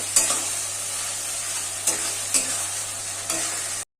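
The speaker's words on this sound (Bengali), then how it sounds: "আর এখন যে একটা টমেটো আমি চারফালি করে রেখেছিলাম দিয়ে দিচ্ছি ভালো করে কষিয়ে নেবো মশলাটার সাথে" Tomato sautés with spices in a pan for chicken kosha, giving a continuous sizzling hiss with a few sharp scraping stirs of the spatula, a low steady hum beneath, and no talking.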